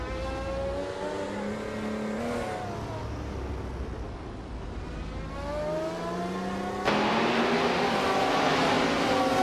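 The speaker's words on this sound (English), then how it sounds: "the race just kicked off at Croft" Racing cars launch off the grid at Croft in a racing game, including a classic 1977 Porsche 936 Group 6 car, engines rising and falling in overlapping revving pitches before a sharp burst of louder acceleration.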